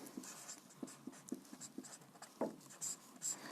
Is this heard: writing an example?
yes